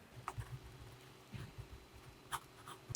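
A pen writes notes on paper, with soft scratchy strokes coming in short irregular bursts, close and quiet.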